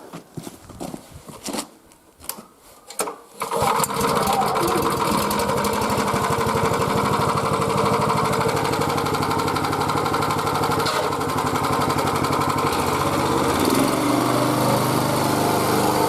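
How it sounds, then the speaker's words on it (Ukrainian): A Motor Sich walk-behind tractor engine starts after a few sputtering pulls, then runs at a loud, steady, buzzing rattle close by. "Зібрало все докупи і, як кажуть, тест-драйв. Запускай двигуна."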